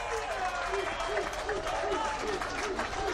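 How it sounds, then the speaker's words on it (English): Crowd chanting for a player at a Redland versus Southport football match: a dense, rhythmic chorus of many voices spread across the stands, loud and continuous, with a commentator talking over it. "We've got the chant going around the crowd here"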